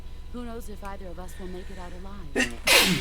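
A short sneeze from a character in the stealth video game Metal Gear Solid 3: Snake Eater, bursting out loud and breathy right after in-game dialogue ends, with a voice speaking beforehand.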